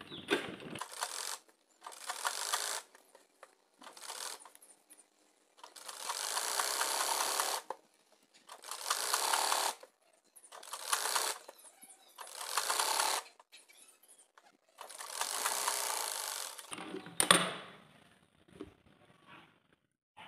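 A sewing machine runs straight stitches attaching a collar to a baby girl's top, in about seven separate bursts of rapid whirring, each a second or two long, with short quiet pauses between and faint handling clicks.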